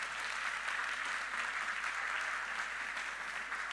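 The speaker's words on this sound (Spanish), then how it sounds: "Un aplauso para Emanuel." Steady applause from a church congregation fills the space, dense and continuous clapping at moderate distance with no voices standing out.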